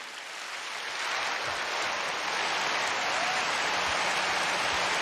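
Church congregation clapping in praise during a sermon, a dense, continuous wash of hands building slightly in the first second and then holding steady, broad and roomy with no speech over it.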